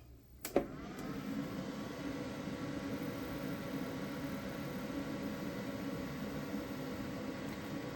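An electric tea kettle plugged into a Jackery portable power station starts with a sharp click, then a steady, even hiss and hum of heating runs on without change.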